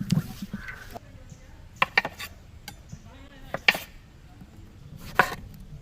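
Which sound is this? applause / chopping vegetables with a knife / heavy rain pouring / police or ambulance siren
chopping vegetables with a knife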